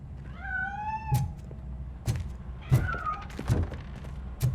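A cat meows repeatedly in the RoboCop: Rogue City video game, two drawn-out rising cries among several dull thumps and knocks, fairly close and clear.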